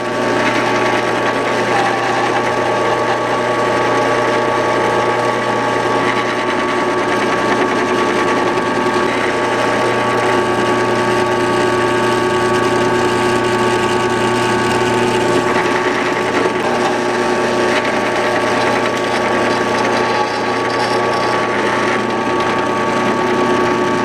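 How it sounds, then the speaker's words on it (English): A power drill bores a small 1/8 inch pilot hole in a metal bracket for junkyard driving lights, giving a steady, continuous mechanical whir with a constant tone throughout, close and fairly loud with no talking. "The important thing to remember when drilling metal is to keep everything lubricated and start small."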